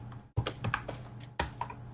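Keys on a computer keyboard tapped in two short quick bursts while a route print command is entered at a prompt, with crisp close clicks and a brief pause between the bursts.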